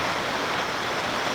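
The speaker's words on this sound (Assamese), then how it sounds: "ৰাজ্যৰ প্ৰান্ত প্ৰান্ত বৰষুণ দেখিবলৈ পোৱা গৈছে" Heavy rain pours down in a dense, steady hiss, loud and continuous with no breaks or voices.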